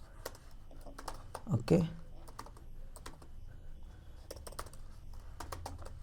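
Close, crisp keystrokes patter on a computer keyboard in short irregular runs while HTML code for a login form is being written. A man briefly murmurs a word partway through.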